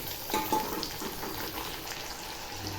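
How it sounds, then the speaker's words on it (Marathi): Tomatoes fry in hot oil in a pan, giving a soft, continuous sizzle with faint stirring scrapes throughout. "टोमॅटो चांगला असा तेलामध्ये परतून घ्यायचा"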